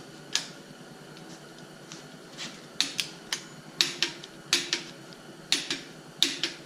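A torque wrench clicks sharply in pairs and singles while tightening bolts on a Jeep 4.0 engine, each crisp snap standing clear of a quiet background, with roughly a dozen clicks in all.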